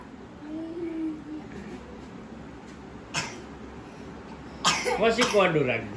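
A boy with a cough lets out a short harsh cough and then a cluster of rougher coughing bursts, nearby and fairly loud, over a quiet rural background with voices.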